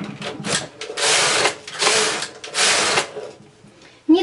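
A domestic knitting machine with a double bed runs its carriage across rows of a honeycomb pattern, giving three loud, steady whirring sweeps separated by short pauses, with a clunk at the end.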